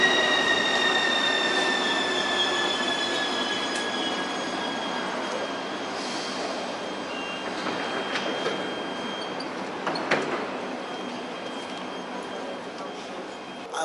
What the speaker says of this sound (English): I like the metro system here.